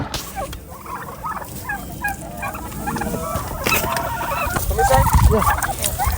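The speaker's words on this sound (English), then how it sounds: "About to go get some turkeys." Turkeys gobble on a pasture-raised farm, several birds calling in loud, rattling bursts that overlap and build toward the end, with rustling and movement close by.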